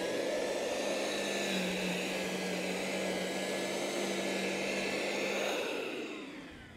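A RYOBI battery-powered lawn scarifier dethatcher runs over grass with a steady whirring motor hum and raking whine, its blades struggling for torque, close and continuous before winding down near the end.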